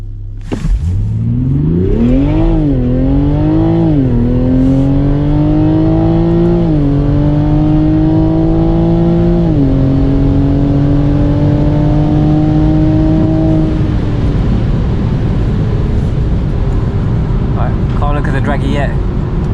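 A Stage 1 tuned Toyota A90 Supra accelerates hard down a quarter-mile drag strip from inside the car, the engine climbing through several gear shifts before easing off, loud and close.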